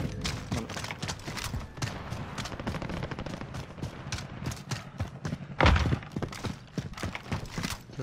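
Quick footstep thuds in the Warzone battle royale video game, a steady run of soft impacts with one louder knock partway through, heard close without talk.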